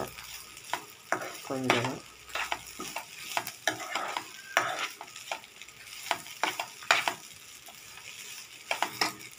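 Coconut being stirred and roasted in a hot pan for a beetroot-carrot chutney, with a steady sizzle and scraping strokes of the spoon. A voice speaks briefly under the cooking sounds.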